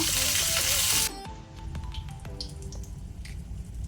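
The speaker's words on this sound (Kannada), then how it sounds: "ಸ್ವಲ್ಪ ಇದನ್ನು ಲೋ ಫ್ಲೇಮಲ್ಲಿ ಫ್ರೈ ಮಾಡುವ" Six garlic cloves frying in oil on a low flame for a yam palya: a steady sizzle after a loud opening hiss, with scattered pops and crackles.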